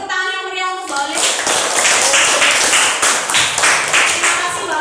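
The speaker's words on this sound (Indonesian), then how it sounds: "beri tepuk tangan yang meriah untuk Mbak Olive." A class claps for a student during an arts and culture lesson on gambyong dance. A short voice is heard first, then steady, dense applause from many hands rises and continues loud to the end.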